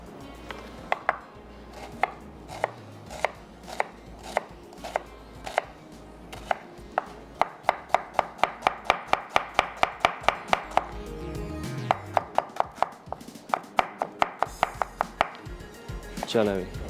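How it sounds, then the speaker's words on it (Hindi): Onions being chopped with a vegetable slicer, a fast run of crisp, even chopping clicks that start spaced out and then speed into a rapid steady rhythm, close and loud, with no voice. "Vegetable slicer."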